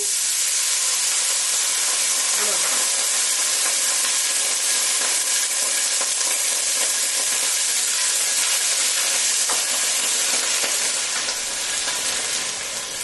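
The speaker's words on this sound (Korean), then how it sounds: "아까 준 약불에다 기름을 두르고 고추를 볶았다면 물을 넣고는" Loud, continuous sizzling and hissing as water is poured into hot oil with shishito peppers over low heat, a steady close frying roar throughout.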